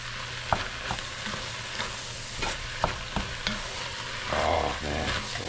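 Tomato paste cooking in a pot for Italian chili: a steady low sizzle with occasional knocks and scrapes of a stirring spoon, close and continuous.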